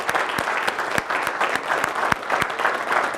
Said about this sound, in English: So you all should give him a round of applause